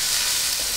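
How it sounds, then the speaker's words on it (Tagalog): Onion and celery sautéing in a pan, a brief steady hiss and sizzle heard up close with no talking. "Itutuloy lang natin yung pag-isa hanggang sa malambot na yung sibuyas, pati na rin yung celery."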